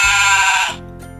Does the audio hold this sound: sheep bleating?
yes